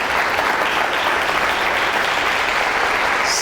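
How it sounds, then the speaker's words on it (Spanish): A Sunday church congregation claps in praise, a dense, loud and even wall of applause that holds steady from start to finish. "Dale un aplauso al Señor"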